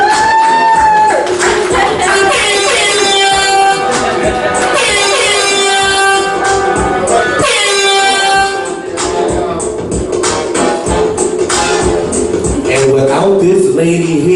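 Audience clapping at a community comedy show, loud and continuous, mixed with sustained vocal cheering and music-like tones across the whole stretch.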